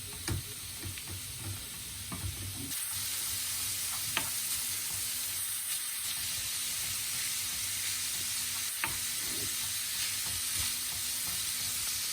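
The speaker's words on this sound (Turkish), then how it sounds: "Bunu iyice kavuruyoruz." Ground beef, 500 grams of mince, browning in a pan for içli köfte, giving a steady close sizzle and hiss throughout with occasional scrapes and clicks of stirring, no voices.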